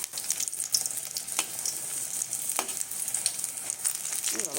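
Chili fritters (lonkar beguni) frying in hot oil, a dense crackling sizzle close by with a few utensil taps.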